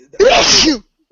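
A single loud, sharp sneeze bursts out close by during a casual gaming radio chat, lasting under a second and followed by quiet.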